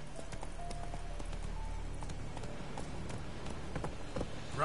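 Roach the horse gallops in The Witcher 3, hooves clip-clopping in a quick steady rhythm at moderate loudness against a low ambient rumble.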